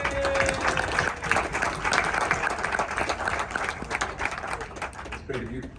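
An audience claps at a Habanos World Days cigar event in London, a full, steady round of applause that holds strong throughout and thins out near the end as a voice begins to speak.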